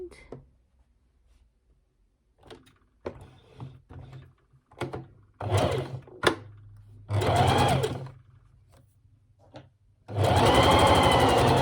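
A sewing machine stitches sleeves onto a polka dot dress in several bursts of fast rhythmic whirring, the last run long and loud, separated by quiet handling of fabric.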